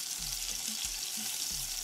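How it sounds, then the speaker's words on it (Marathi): Tomato puree for rasam sautés in a pan with a soft, steady sizzle that stays faint and even throughout, with no voices. "आता आपण टमॅटोची प्युरी जी घेतली आहे ती छान परतून घेऊयात."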